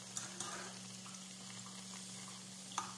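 Noodles fry in a pan as a faint, steady sizzle under a low constant hum, with a few brief clicks of the utensil, quiet and continuous without any talking.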